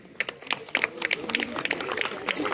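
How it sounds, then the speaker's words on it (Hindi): Wedding guests applaud the newly married couple, a brief burst of scattered, moderately close hand claps mixed with crowd murmur and talking. "हम सब ताली बजाते हैं उनको कॉन्ग्रेचुलेशन को।"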